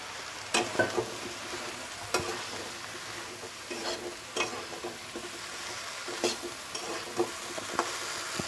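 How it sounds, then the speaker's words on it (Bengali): Pieces of bottle gourd, cut in thick chunks, fry in a pan of cooked-down spice paste, a steady soft sizzle broken by irregular stirring scrapes and clicks of a utensil, close and fairly quiet. "হালকা একটু এটাকে ভেজে নেব লাউটা"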